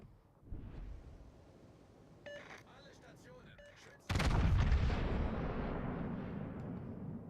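Naval gunfire booms in the video game World of Warships: Legends, with a small burst of shots and then a loud broad blast that rolls on under the game's ambient rumble.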